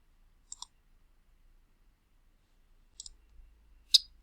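A handful of sharp, isolated computer clicks sound in an otherwise quiet room, two quick ones early and two more near the end, as an answer is entered and submitted.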